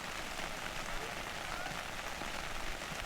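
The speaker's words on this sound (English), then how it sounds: "they are legitimate hailstones falling on us" Hailstones fall steadily at an outdoor quidditch match, a dense continuous patter of small hard impacts on surfaces nearby, broadband and even throughout with no clear gaps.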